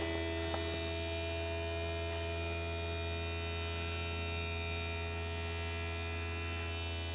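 An electric dump box on a UTV lowers with a steady, close, buzzing motor whine and hum that runs unbroken throughout, with one faint click near the start and no talking.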